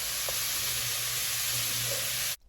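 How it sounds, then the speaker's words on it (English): Four tablespoons of unsalted butter hit a hot pan and sizzle steadily, a loud continuous frying hiss that cuts off abruptly near the end, with no voices over it. "now we're going to add 4 tablespoons of unsalted butter"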